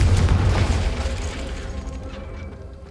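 The Confringo fire spell cast in the Hogwarts Legacy video game lands as a loud, close explosive boom at the start, then rumbles and crackles away over a few seconds.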